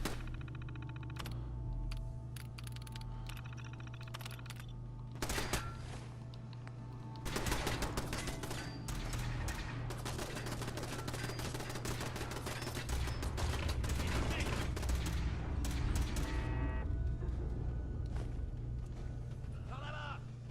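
Gunfire in a Fallout 4 fight, bursts of rapid machine-gun fire and single shots with metallic clangs, growing denser toward the end over a steady low hum, with voices speaking in between.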